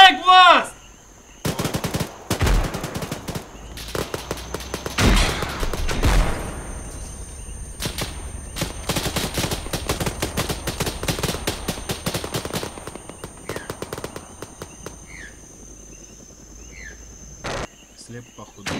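Gunfire in ARMA 3 during a night jungle battle: sharp single shots and long machine-gun bursts in clusters, some close and loud, others distant, over a constant backdrop of chirping insects.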